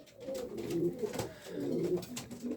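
Racing pigeons cooing close by, soft repeated throaty coos in two or three phrases over a quiet background.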